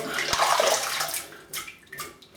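Tap water runs and splashes noisily for about a second, then thins into intermittent trickles and spurts, close by, while preparing for a wet shave.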